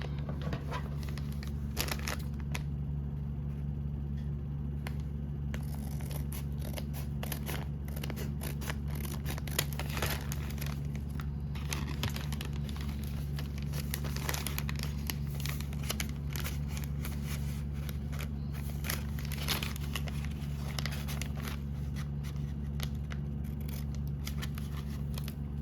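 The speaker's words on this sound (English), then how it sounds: "We're going to cut this portion open and the sides to create a flap." Scissors snip repeatedly through paper to cut open a bag flap for a junk journal, quick crisp clicks and crinkling close up over a steady low background hum.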